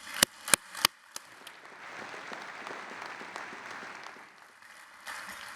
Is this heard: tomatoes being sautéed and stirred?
no